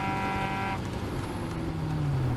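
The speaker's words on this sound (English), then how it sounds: "Listen to my engine note, it's completely flat." A steady, unchanging racing engine drone from a Caterham race car fills the clip, loud and close, with a brief horn-like tone early on and a slowly falling pitch near the end.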